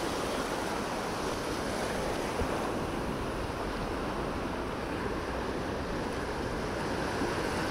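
A strong river current rushes without a break. It is a dense, even wash of water noise, heard close and alone with no talking.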